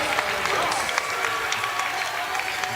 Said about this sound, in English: brought a nice ovation from the crowd here